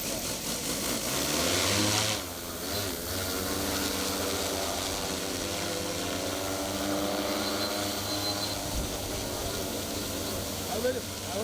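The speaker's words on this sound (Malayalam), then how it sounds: "ഡ്രോണുകൾ അടക്കമുള്ള യന്ത്ര സംവിധാനങ്ങളുടെ പ്രവർത്തനം കർഷകർക്ക് നേരിട്ട് കണ്ടു മനസ്സിലാക്കാനുള്ള അവസരം പ്രദർശനത്തിൽ ഒരുക്കിയിരുന്നു" An agricultural drone runs at a farm equipment exhibition, a steady droning engine-like hum that holds for the whole stretch, with a voice talking over it.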